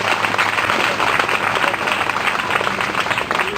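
A church congregation claps for Jesus, dense sustained applause from many hands filling the whole stretch, loud and close.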